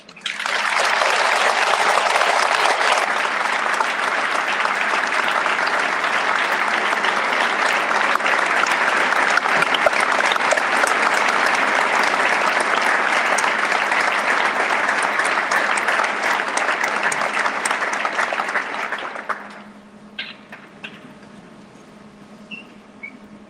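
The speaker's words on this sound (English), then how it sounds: "Please give him a special round of applause" A large assembly audience gives a long, full round of applause for a decorated veteran, holding steady for about nineteen seconds before cutting off. Scattered faint claps and room noise follow.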